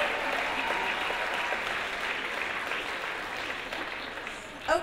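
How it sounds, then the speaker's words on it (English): Audience applause at a 2015 wearable arts show, honoring the artists and models: a dense, steady wash of many hands clapping close by, holding level throughout with a brief louder swell at the very end. "Let's have a pre-round of applause for those guys."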